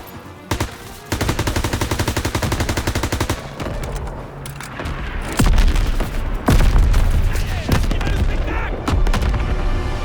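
Artillery assault and gunfire in the World War II shooter Call of Duty WWII: loud rapid machine-gun bursts, then heavy booming blasts and continued close gunfire.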